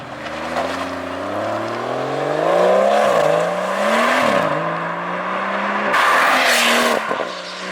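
A BMW 440i's M Performance straight catback exhaust revs hard several times, the engine note climbing and dropping sharply, with crackles between pulls, loud and close.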